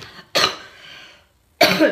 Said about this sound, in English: I'll cough every once in a while